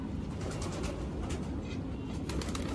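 Domestic pigeons kept by a pigeon fancier, soft low cooing under a steady background rumble, continuous and fairly close.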